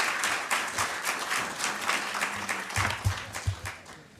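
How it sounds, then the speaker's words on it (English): Audience applause for Oksana after her talk on living in Ukraine, a fairly steady patter of clapping from a room of listeners with a few louder low thumps near the end. "Can we give her another round of applause?"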